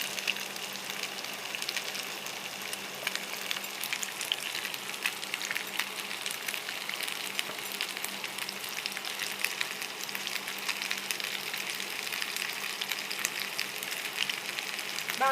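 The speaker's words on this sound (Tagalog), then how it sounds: "Gusto ko kasi siyang i-fry ng konti." Potato pieces frying in a pan of oil for a vegetable chopsuey make a constant, even crackling sizzle with fine popping. It is close and runs steadily throughout with no talk over it.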